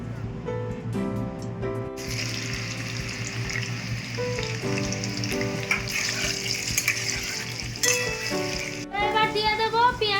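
Mustard oil sizzles in a pan for a Bengali chicken jhol curry, a steady frying hiss that swells midway, with background music and a voice present throughout.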